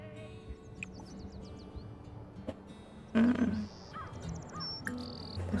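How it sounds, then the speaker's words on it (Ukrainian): Bright bird chirps and short whistled calls in The Sims 4 over a steady ambient bed, with a louder rustling burst midway; the calls come in scattered bursts. "Пташки співають."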